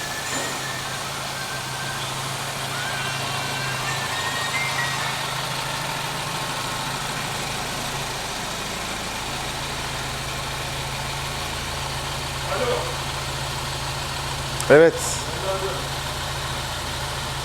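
A freshly rebuilt car engine, reassembled after machining, idles steadily after being started, a continuous low hum running under a voice, with a brief louder knock or clatter near the end.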